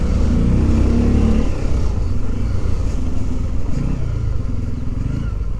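A Hero Xtreme 125R motorcycle on the move, its engine a loud, steady rumble with shifting pitch and some clatter close by, as a rider is heard on a rough road.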